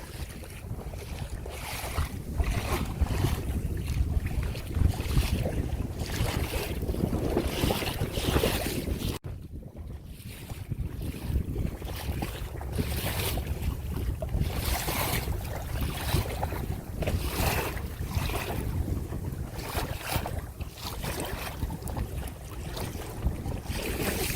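Strong wind on Lake Baikal buffets the microphone in a constant roar, with water rushing around a moving kayak throughout.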